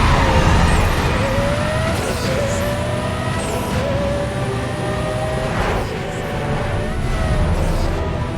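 A race car's engine roars loud and close during a drag race in Need for Speed: Most Wanted, a sustained whine that climbs through gear shifts with brief dips between them.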